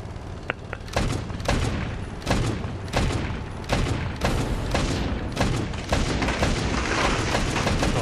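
Repeated gunfire in a Stormworks PvP battle, sharp broadband shots cracking out every second or so over a dense, continuous roar of battle noise, loud and close throughout with no talking.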